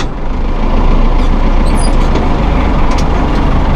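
A 2001 New Holland TL100 utility tractor engine runs steadily at close range while being shifted through its gears, a loud continuous diesel rumble with a faint mechanical whine above it.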